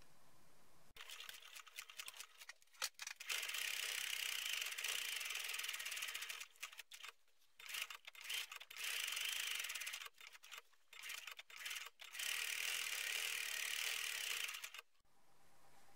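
Sewing machine stitching a seam 1 cm in from the edge around fabric scraps, heard as a steady close mechanical whir in bursts of a few seconds separated by brief stops, with no talking.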